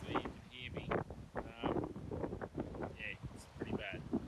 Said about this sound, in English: It's clear as, but it's obviously really, really windy.